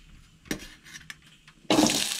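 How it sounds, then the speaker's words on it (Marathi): Soybeans hit hot oil in a pan for a Goan red amaranth curry: a few soft knocks and scrapes, then a loud, sudden burst of sizzling that carries on to the end. "तर गाईज आता आम्ही सोय बीन भाजून घेऊया, त्या लागून हांगसर ॲड केला तेल."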